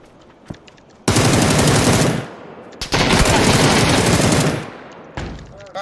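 Two long bursts of rapid automatic gunfire in a video game, each roughly a second or more, loud and close, with quieter scattered shots around them.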